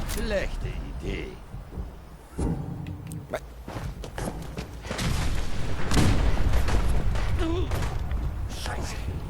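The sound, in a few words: explosions in the video game Fallout 4 Far Harbor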